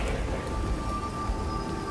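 Steady rain falls on a stormy night in a Bengali horror cartoon, a dense continuous patter with a low rumbling undertone and no voices.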